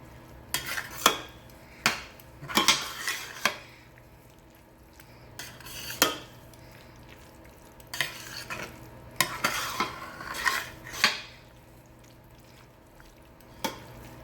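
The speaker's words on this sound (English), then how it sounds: "I'm just gonna add all of that to our pot and give that a nice stir." Crab meat being stirred in a pot, giving repeated scraping and clinking strokes of a utensil against the pot, with a soft sizzle underneath, irregular bursts spread across the span, close and moderately loud, no talking.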